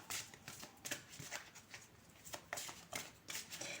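Fairy oracle cards are handled and shuffled near and alone in a quiet room, their crisp, papery riffles and slaps arriving in a steady run of short bursts.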